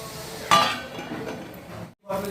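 A lid set onto a pan of cooking onions for brinjal bharta makes one sharp metallic clink near the start, followed by quieter kitchen background, a brief silence and a voice talking.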